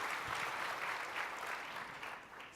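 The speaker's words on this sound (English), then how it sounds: "So round of applause for John." A crowd applauds steadily for John Chambers, former executive chairman and CEO of Cisco, at the Startup World Cup, a dense continuous patter of many hands heard at some distance.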